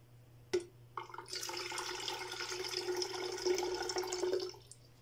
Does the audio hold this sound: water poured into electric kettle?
yes